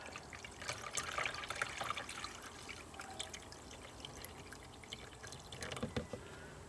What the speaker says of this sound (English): So we're just going to pour off the water off the top.